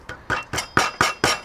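Chunks of wide-grained softwood are knocked out between rough saw cuts while building gates, with six sharp, evenly spaced cracking knocks close by.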